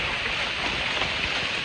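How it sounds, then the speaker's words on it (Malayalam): Heavy rain during a stay in Wayanad, a steady dense hiss of falling water that holds even and loud, close around the listener, with no break through the whole short stretch. "നല്ല മഴയാണ്."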